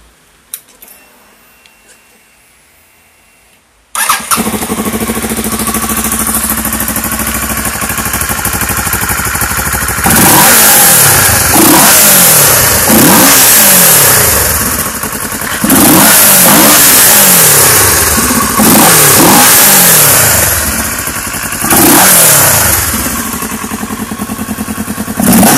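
A 2006 Kawasaki Ninja 650R streetfighter with an opened-up air box and baffles removed starts up, settles into a steady idle, then gives a string of loud, sharp throttle blips that rise and fall in quick succession.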